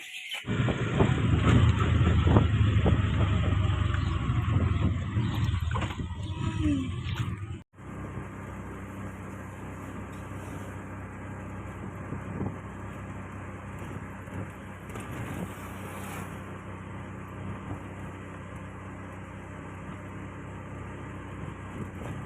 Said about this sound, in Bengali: দেখো বন্ধুরা চলে এসেছে আমাদের অটো